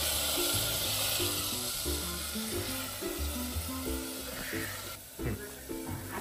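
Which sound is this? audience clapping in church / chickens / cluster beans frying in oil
cluster beans frying in oil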